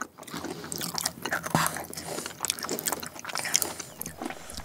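Crunchy biting and chewing of homemade chocolate bark, close and moderately loud, with repeated irregular crisp crunches and mouth sounds and no talking.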